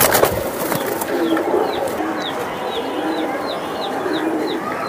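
Silver giribaz pigeons coo in a loft, with a series of soft, repeated rising calls close by over a constant rustling, chattering background of other birds.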